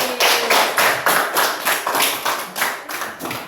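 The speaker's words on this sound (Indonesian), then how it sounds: "Tepuk tangan untuk Patir." A classroom of students claps for a classmate in an even, rhythmic beat of about two claps per second. The claps are loud and close and nearly in unison, repeating steadily with no talk.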